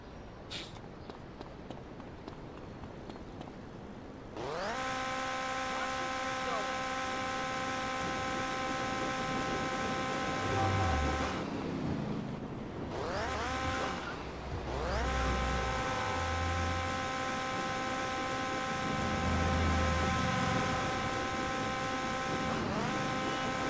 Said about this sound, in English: The engine sound is really weird on this bike right now.